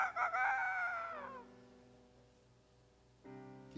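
A rooster crows loudly and close at the start, one full drawn-out call that fades off, followed by quiet and then a short harmonic tail near the end.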